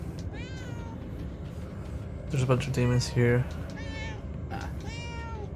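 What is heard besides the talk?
cat meowing in the video game Murdered: Soul Suspect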